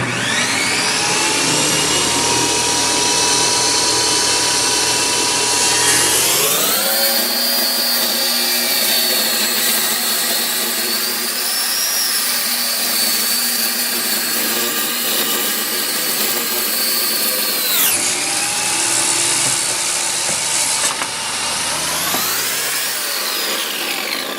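A power saw cuts a piece of wood for a table leg. A whining idle swells into a loud, rough cutting roar that holds for about twelve seconds, then drops back before surging again near the end.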